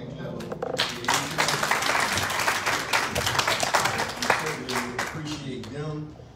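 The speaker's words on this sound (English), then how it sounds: "Let us give our deacons a hand clap." Church congregation at an anniversary service clapping for the deacons, a dense, lively round of hand claps filling the room, with voices talking over it.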